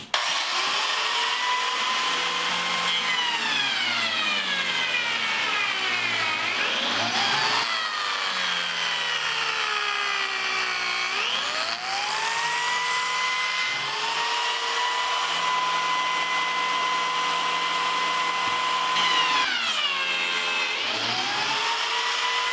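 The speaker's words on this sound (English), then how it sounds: "I'll drop the board down onto the blade and then run it through to create a groove that will countersink the screw." A table saw blade runs through a 3/4-inch wooden board as it is lowered onto the blade to cut a groove, a loud continuous whine with pitch dips and rises as the blade loads and frees up, sustained throughout with no talk.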